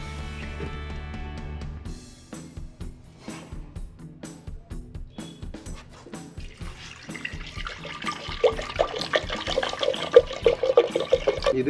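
Water is poured while drumstick leaves are cooked in a village kitchen, heard as intermittent splashes and trickles that build into a denser, louder pouring stream toward the end.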